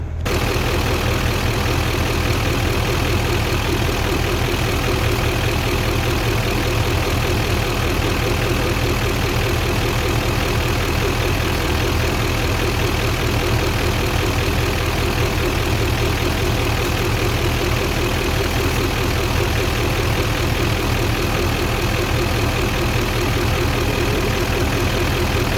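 Warmed-up Duramax diesel truck engine idling at operating temperature, a steady low rumble that holds evenly and continuously throughout, with no talking over it.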